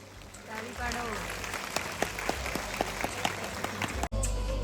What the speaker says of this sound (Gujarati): તાળીઓનો ગડગડાટ રોકાવો ન જોઈએ.